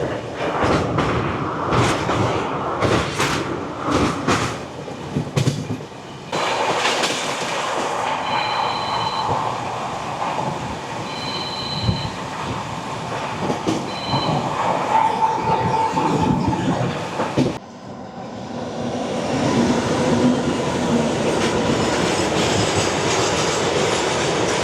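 The Vivek Express passenger train rolling across a bridge over the Kaliaghai river, loud rumbling wheels with rhythmic clickety-clack, brief squeals and a shift in tone as it crosses.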